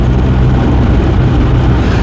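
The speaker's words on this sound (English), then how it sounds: "having a lovely time whilst I drive along the Wildhouse Lane in my Rover" A Rover 420 car driving along a lane, giving a steady, loud, close engine and road rumble throughout, with no speech.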